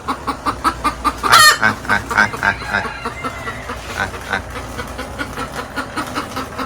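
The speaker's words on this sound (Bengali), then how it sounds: "আমার বাসার মোরগ" Chickens cluck steadily nearby, with a louder rooster call near the start and a repetitive rhythmic clucking running throughout.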